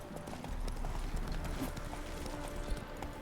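Horse hooves clip-clop in a quick galloping rhythm in The Witcher 3: Wild Hunt, with faint game ambience beneath.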